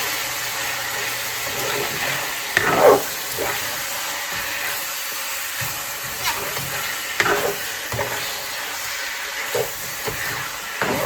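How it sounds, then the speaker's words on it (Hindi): Ginger garlic paste is stirred into frying chicken pulao, a soft continuous sizzle with a few louder scraping strokes of a spoon against the pot, close by. "मैं इसमें जिंजर गार्लिक पेस्ट डाल रही हूँ और इसे अच्छी तरीके से मिक्स कर देंगे"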